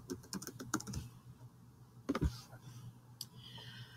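Login being typed on a computer keyboard: quiet, close key taps in a quick burst, a pause, then a few more clicks, with no speech.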